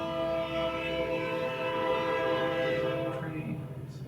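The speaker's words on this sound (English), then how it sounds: "Train. It's everybody's best friend," A train rolls past sounding its horn, a long sustained multi-tone blast over the rumble of rail cars that fades slightly near the end, with no talk.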